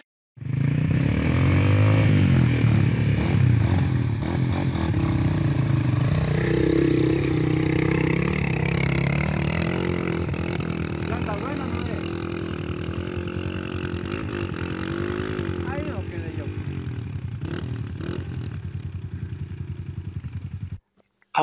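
Axxo TRZ 250cc dual-purpose motorcycle climbing a very steep hill, its engine droning loud and steady under load for about twenty seconds, with some clatter from the terrain and no talking.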